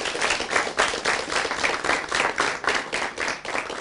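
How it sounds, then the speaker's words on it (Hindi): Audience applause in a studio talk show: steady, dense clapping from many hands throughout, fairly close and loud, with no voices over it. "तालियां इनके लिए."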